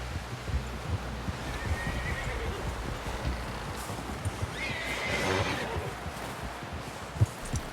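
A horse in the video game Red Dead Redemption 2 neighs twice, long shrill whinnies, over steady hoof clip-clops and background game ambience, with no speech.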